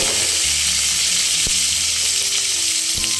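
Onion and tomato frying in hot oil for hotel-style fried rice, a steady loud sizzle with a few clinks and stirring knocks, no voices.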